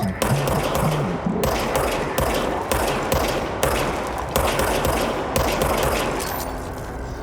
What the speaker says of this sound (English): Fire service weapon.